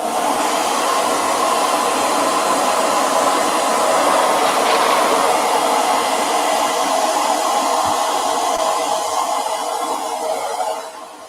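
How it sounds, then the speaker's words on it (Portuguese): A hair dryer blows steadily at close range, a constant loud whoosh of air running without a break for about eleven seconds. "Aí vamos de secador."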